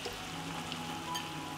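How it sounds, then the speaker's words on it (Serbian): Meat added to softened, fried onion in a pan, frying with a faint, continuous sizzle and a few tiny crackles. "Na propržen luk dodajem meso"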